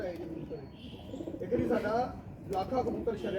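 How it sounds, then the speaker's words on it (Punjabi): A kashla pigeon coos in soft, repeated throaty bursts close by, with muffled human voices in the background. "ਇਹ ਕਾਸ਼ਲਾ ਕਬੂਤਰ ਇਹਨੂੰ ਕਹ ਲਓ"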